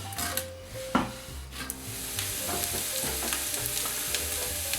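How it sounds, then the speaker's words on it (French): Onion frying in neutral oil at the bottom of a couscoussier, a close, loud sizzle that swells and holds steady, with a few stirring clinks and scrapes and no talk. "On va commencer par faire revenir nos légumes. Alors, je commence par l'oignon."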